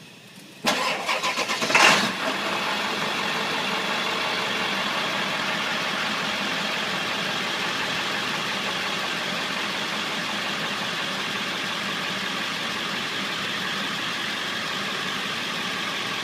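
A Ford 7.3 Powerstroke diesel truck suffering a fuel restriction cranks briefly and catches, then settles into a steady, loud diesel idle that holds without change.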